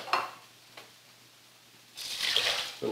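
Water poured from a cup onto brown rice in a cooking pot, a short splashing pour after a few faint clinks, quiet and close.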